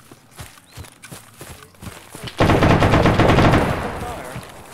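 Machine gun and heavy machine gun fire in a military game: sparse single shots at first, then a loud, sustained burst of rapid automatic fire that rings on in the second half.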